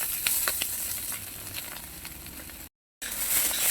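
Boiled Maggi noodles are tossed into a pan with cooked egg and stirred, giving a close, steady sizzle with light scraping, a brief dropout near the end, and no speech.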